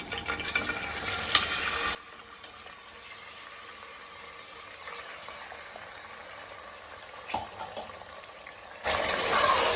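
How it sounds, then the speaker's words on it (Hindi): Goat kidney and liver frying in hot oil with whole spices such as bay leaf, cardamom, cloves and cinnamon: a loud hiss that falls away to a quiet background for several seconds, then surges back near the end. "थोड़ी देर इसे भून लेंगे तेल में।"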